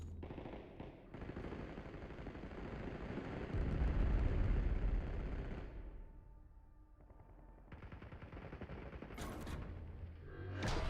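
Gunfire in the video game Warzone: sustained automatic weapon bursts and booming blasts, loud and dense, easing into a quieter stretch before more firing and effects return.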